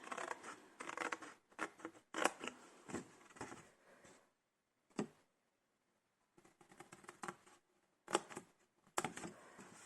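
Scissors or a paper cutter slicing through card paper for a handmade sliding birthday card, in several crisp bursts of cuts separated by short pauses, close and alone.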